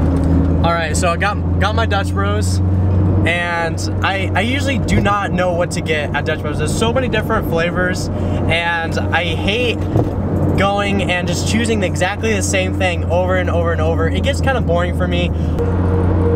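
Toyo R888R tires hum loudly on the road inside a moving Subaru BRZ, a steady low drone under the car noise, with a person talking over it the whole time.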